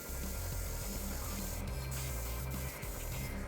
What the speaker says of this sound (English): We're gonna spray this into all the areas that we just put purple down